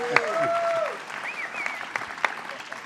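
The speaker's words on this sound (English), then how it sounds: "So big round of applause for Howard Zemsky." Audience applause at a Bronx event announcing a Silvercup Studios expansion, a steady wash of clapping that runs the whole time with a few louder individual claps and faint voices mixed in.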